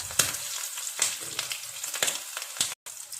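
Coated broast chicken pieces frying in oil give a close, steady sizzle with repeated bursts of crackle and spatter, cut by a brief silent gap near the end.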